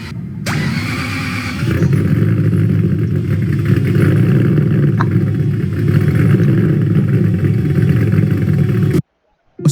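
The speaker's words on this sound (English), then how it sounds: "I've got it running, starts, runs, does what it should." A Toyota Celica fitted with a 2UZ V8 with a cam sensor fault runs steadily at close range, a loud even drone with a slight rise in pitch after a second or two, then cutting off abruptly near the end.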